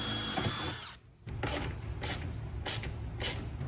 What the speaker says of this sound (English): and then I can drill through.